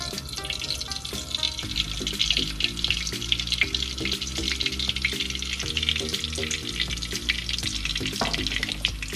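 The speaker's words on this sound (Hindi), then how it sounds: "सबसे पहले ऑयल डालेंगे कढ़ाई में। ये 1 कप ऑयल है।" One cup of oil poured into a karahi, a continuous splashing, trickling pour running steadily for several seconds, close by, over a faint tonal background.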